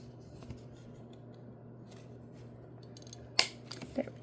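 A corner punch rounds card corners with a single sharp, close punch, followed by a smaller snap, against a quiet background hum.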